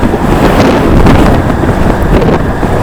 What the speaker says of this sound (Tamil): காற்று பயங்கரமாக அடிக்குதுங்க.